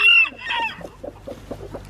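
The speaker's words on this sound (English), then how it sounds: "I didn't realize it was a chicken" A chicken lets out a loud squawk, then a run of short, rhythmic clucks close by, growing softer and steadier.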